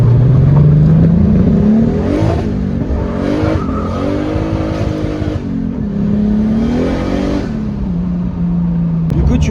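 A BMW E30 324i with a turbo conversion accelerates hard, engine pitch rising through gears with a rough rev and spinning-tyre scrub, close and loud, with brief talk over it.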